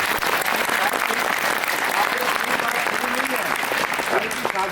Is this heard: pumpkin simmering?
no